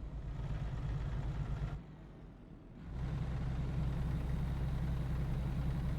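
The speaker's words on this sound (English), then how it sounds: "I'm just going to hit the engine brake here" A Western Star 49X sleeper truck's engine brake in American Truck Simulator: a loud, steady low engine drone with deep harmonic rumble, briefly dropping away for about a second before surging back to a sustained roar, with no talking.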